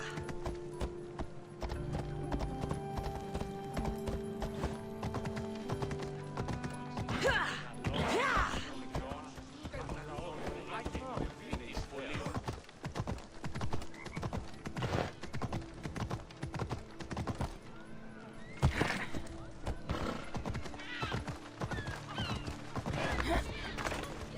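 In Assassin's Creed Odyssey, a horse gallops with steady clip-clop hoofbeats and neighs now and then, set against a continuous bed of game music and ambience. The sound stays moderately loud from start to finish.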